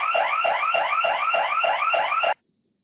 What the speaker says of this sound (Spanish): Una vez el sensor de incendio deje de detectar la flama, se apagará de inmediato la sirena